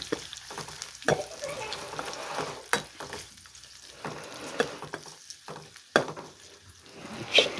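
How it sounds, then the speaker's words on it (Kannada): Onions fry with a soft sizzle while a ladle stirs them, giving intermittent scraping knocks against the pan, close up and fairly quiet with no speech. "ಈರುಳ್ಳಿನ ಹಾಕ್ಬಿಟ್ಟು ಇದು ಸೌಟ್ನ ತಗೊಂಡು ಹಿಂಗೆ"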